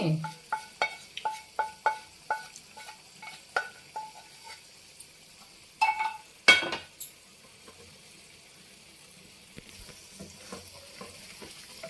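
Ash gourd halwa stirred in ghee in a pan, a steady run of distinct scraping strokes in quick rhythm over a soft sizzle, then a louder clatter near the middle before quieter stirring.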